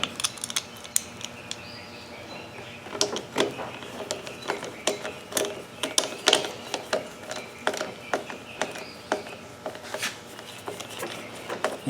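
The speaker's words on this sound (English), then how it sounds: "You can just use the nut driver." A nut driver ratchets in quick, irregular clicking bursts while snugging bolts into the plastic housing of a lawnmower, close and fairly quiet, with short pauses between turns.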